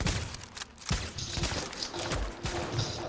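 Gunfire aimed at an assassin in The Division's Dark Zone PvP mode, heard as a loud, continuous volley of shots with several sharper cracks standing out, all dense and close.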